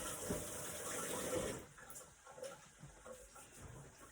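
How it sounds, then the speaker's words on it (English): A kitchen tap runs as hands are washed under it, a steady close rush of water for about a second and a half, then a quieter trickle broken by splashes and small knocks. "I licked my fingers, so I'm gonna wash my hands"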